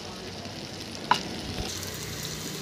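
Ingredients sauté in a dry pan with no oil over a medium flame for a Punjabi makhani gravy, a soft steady sizzle with one sharp utensil tap, no speech.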